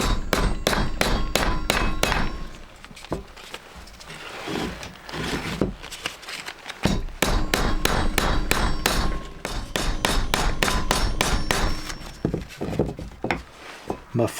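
Loud, rapid hammer blows with metallic clangs from the fighting game Tekken 8, coming in dense rhythmic bursts separated by brief lulls across the whole stretch.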